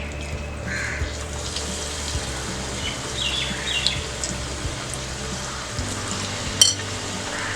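Cabbage bhajiya fritters frying in oil over low heat, giving a steady soft bubbling sizzle with occasional small clinks and pops close by.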